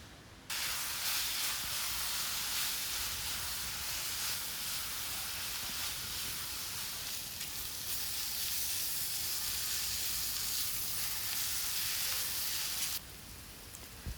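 Chicken curry with turmeric, chili and coriander powders sizzling and frying steadily in a pan, a loud continuous hiss that runs unbroken for most of the stretch before cutting off near the end, with no talking.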